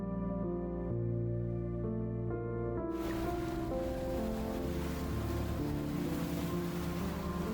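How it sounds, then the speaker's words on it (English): Ocean waves roll and crash onto a wide, quiet beach shore in Turkey, a continuous loud wash of surf that swells into fuller breaking noise partway through, heard alone without voices. "Waves crash on the shore,"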